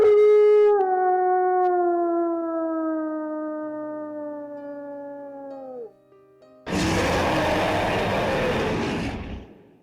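A beast throws its head back and howls at the moon, a long loud wavering cry that slowly falls in pitch for about five seconds, followed after a short pause by a burst of broad rushing noise.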